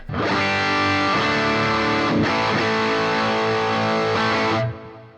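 A distorted electric guitar through a Boss GX-100 multi-effects unit with flat EQ plays sustained chords with effects, full-bodied and loud, ringing for about four seconds before cutting off.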